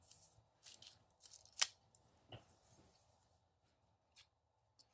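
Scissors snip through a sticker to trim it down so a box comes out shorter, with several quiet cuts and one crisp louder snip in the middle, close and alone in a hushed room.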